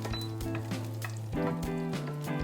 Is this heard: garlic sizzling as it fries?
yes